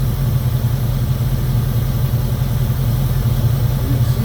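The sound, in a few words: 2002 Jeep Grand Cherokee 4.7 engine idling roughly with misfire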